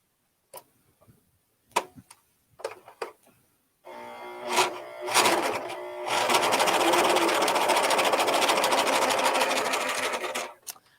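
An Amber S|100 overlock machine starts with a few sharp clicks and taps, then runs in a steady, loud, fast mechanical whir that holds for several seconds before stopping.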